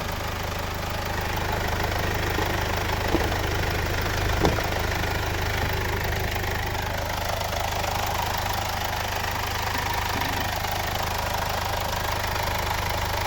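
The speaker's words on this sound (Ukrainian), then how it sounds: "все робота двигуна" A 2013 Mercedes B180 1.8 diesel engine idling steadily with a low, even rumble and faint knocking texture, close and continuous with no talking.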